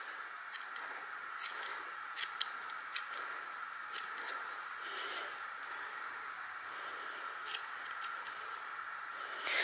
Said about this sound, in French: il reste plus, comme lorsque l'on fait des pompons, à découper donc les excédents, tout ce qui dépasse en fait